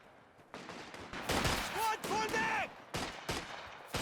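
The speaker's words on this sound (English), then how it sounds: "Infantry! Suppressive fire!" Battlefield gunfire from Company of Heroes 2 infantry laying down suppressive fire, scattered bursts and single cracks at moderate distance, mixed with other game effects and a faint tonal sound.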